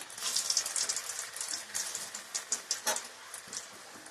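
Green banana kofta balls fry in hot oil in a pan with a soft, close crackle of irregular spits and pops, fairly quiet throughout.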